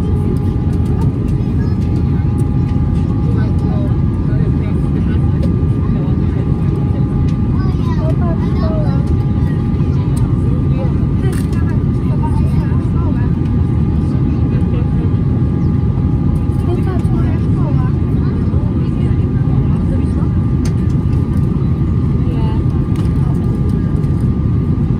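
A British Airways Airbus A319 airliner comes in to land at Warsaw Chopin in the evening. A loud, steady, deep rumble holds for the whole stretch, with faint tonal engine whine above it and a voice occasionally underneath.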